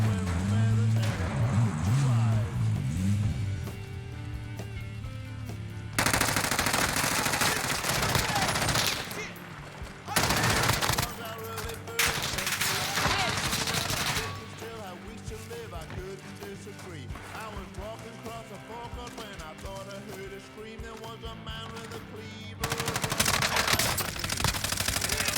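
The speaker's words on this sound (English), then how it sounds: "I'm taking fire!" Rapid gunfire bursts from a Call of Duty match, loud and dense, come in repeated volleys with short gaps, mixed with game effects and players talking over the action.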